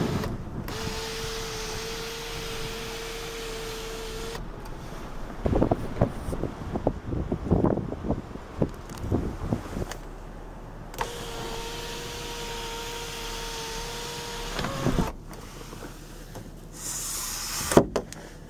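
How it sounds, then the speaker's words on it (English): Power sunroof on a 2007 Buick Allure CXL running its motor in two long, steady whirring passes, each lasting several seconds, heard close inside the cabin with quieter handling noises and clicks between the runs. "This vehicle has a full power sunroof."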